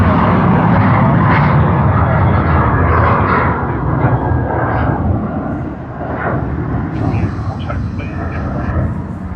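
An airliner roars loudly and steadily on its takeoff run at Sydney Airport, a broad continuous engine rumble filling the whole stretch with slight swells in intensity.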